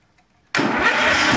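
A small engine coughs to life after the choke is backed off. A quiet rattle gives way to a sudden loud start, and the engine keeps running with a rough, steady roar.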